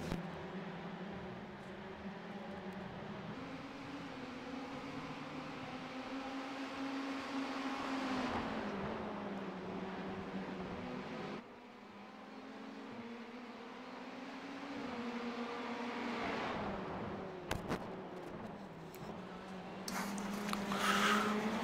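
Race car engines in an iRacing sim race, drafting through the S's in a close pack, a continuous moderate engine drone that rises and falls with gear changes and dips briefly midway before building again.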